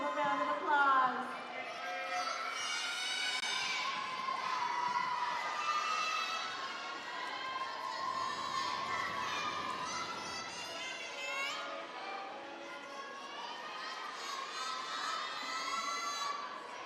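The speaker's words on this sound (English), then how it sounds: "Give them a round of applause." Loud, continuous crowd cheering and shouting, with children's voices prominent, fills the venue at a Tahitian dance competition after an advanced Tahitian group of 11-to-13-year-old dancers performs; the noise holds steady and close throughout.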